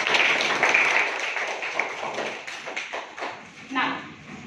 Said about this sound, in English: Clap for row 1